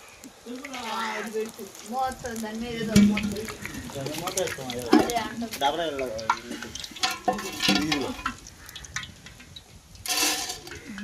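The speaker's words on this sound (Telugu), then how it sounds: "బ్రౌన్ కలర్ వచ్చేంత వరకు అయితే వేపుకోవాలి" Boondi batter frying in hot oil for laddu: a continuous bubbling sizzle with stirring under someone talking steadily over it.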